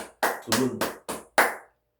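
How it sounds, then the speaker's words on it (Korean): Hands clap five times in a short, uneven burst, loud and close with crisp sharp slaps and no talking, then stop. "그래서 박수 치고 싶고"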